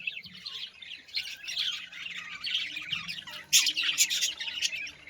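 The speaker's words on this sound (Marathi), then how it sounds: "इथं पोपट वगैरे आहेत भाई" Parrots squawk and chirp at an open-air temple fair in Latur, giving a busy run of harsh, high calls at moderate distance with no talking.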